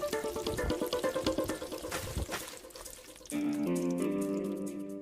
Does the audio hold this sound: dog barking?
no